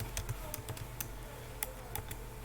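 Keys clacking on a computer keyboard while code is typed, a quick irregular run of light clicks up close, with no voices.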